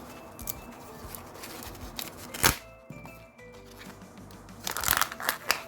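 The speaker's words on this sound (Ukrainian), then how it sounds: "Ось такий шурхіт ми чуємо." Crinkly plastic wrapping of a Kinder Joy toy rustles in short, close bursts, with a sharper crackle near the middle and a louder flurry at the end.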